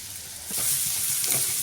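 Onion drops into a pan of sautéing spice paste for an eggplant bharit, and a quiet start bursts into a loud, close sizzle that holds steady with light stirring.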